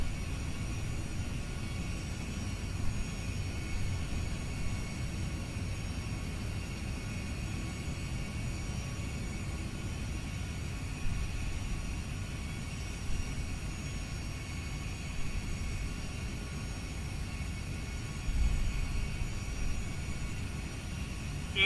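Inside a full-size Airbus A320 flight simulator, the jet rolls through takeoff and climbs, producing a steady, low engine rumble and airflow roar with a faint high whine that continues evenly with no voices.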